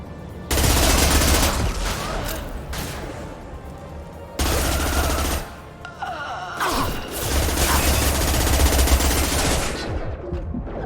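Gunship attack in Mass Effect 2, with long loud bursts of heavy automatic fire and booming impacts in sustained waves, separated by short lulls, with little talk.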